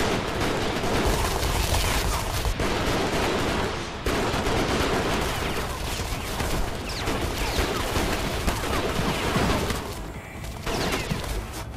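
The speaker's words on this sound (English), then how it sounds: "You're no match for my artillery." Dense artillery blasts and gunfire in the Sengoku Basara Samurai Heroes video game, a loud, continuous barrage of overlapping shots and booms with brief lulls.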